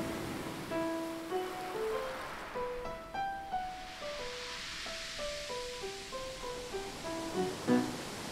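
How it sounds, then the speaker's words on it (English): Orchestral opening of Symphony No. 2 "Water": a mysterious, wave-like theme of soft sustained melodic lines rising and falling over a hazy, surf-like wash, steady and moderately quiet throughout. "The piece opens with a mysterious wave-like theme."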